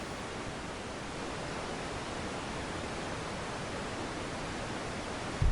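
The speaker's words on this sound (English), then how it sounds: "Can you hear it? White noise, the sound of silence." Steady, even white noise used as a sleep sound, filling the whole stretch at a constant level with no talk, ending in a brief low thump.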